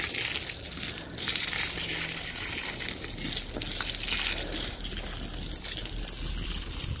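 Water poured steadily onto potting soil, a continuous close gushing, splashing wash lasting throughout with no pauses.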